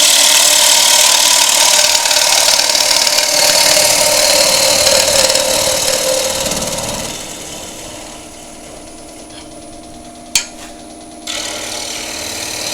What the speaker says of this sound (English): just do that final finishing cut